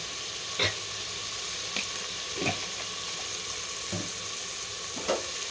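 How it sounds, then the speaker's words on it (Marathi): Onion masala and red chili powder frying for biryani, a soft continuous sizzle broken by about five short stirring scrapes at a steady pace. "आणि आता एकत्र करून सगळे आपण एकदम चांगले लाल भाजून घेऊ."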